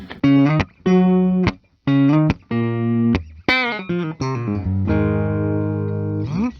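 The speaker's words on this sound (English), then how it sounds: "That neck pickup's great for jazzy stuff." A 1980 Gibson Les Paul Firebrand electric guitar, kept as new old stock, is played on its neck pickup. Loud, clear single notes and chords ring out one after another, some sustaining into a long final chord, with no talking.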